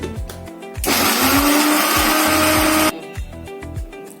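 A mixer grinder grinding curry leaf powder whirs loudly for about two seconds, starting and stopping abruptly, between quieter clicks and rattling before and after.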